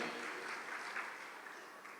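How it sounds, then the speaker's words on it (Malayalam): Church congregation clapping hands together during a Catholic sermon, a steady dense patter of many palms sustained for a couple of seconds at moderate distance, with no voices over it. "ഒന്ന് കൈവർത്തി കൈയടിക്കുക"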